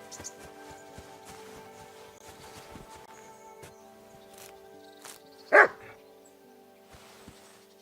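A dog in a medieval video game world barks once, sharp and fairly distant, over a quiet background of faint ambient noise and small scattered clicks.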